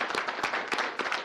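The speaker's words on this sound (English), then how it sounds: "Let's give them a round of applause." Applause from an audience at a city council meeting, a steady wash of many hands clapping at close range, dense and continuous throughout the short burst with no talking.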